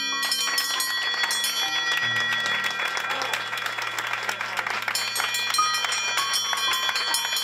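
A cancer patient rings a bell in a hospital while a crowd applauds and cheers, with bright bell tones ringing steadily through the clapping.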